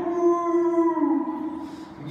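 A wolf gives one long, sustained howl that wavers and falls in pitch near the end. Close and clear, with no voices.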